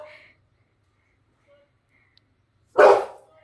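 A dog gives one loud, close bark near the end of a village morning walk, after a long quiet stretch with only faint distant sounds.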